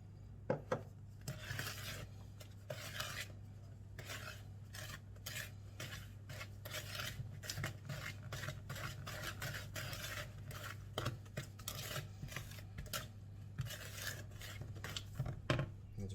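A spatula scrapes and drags through banana bread batter in a mixing bowl, giving a steady run of soft rasping strokes with occasional light knocks against the bowl, quiet and close with no talking.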